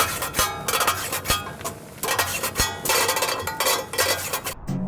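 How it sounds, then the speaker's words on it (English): Rivets being set into a metal tank held together with tech screws: a series of sharp metallic clanks and rasping knocks at an uneven pace, close and fairly quiet, with no talk. "Now time to get riveting."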